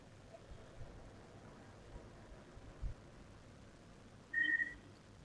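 A pressure cooker holding lablab bean curry lets out a short, faint, high whistle near the end, after a stretch of quiet kitchen background.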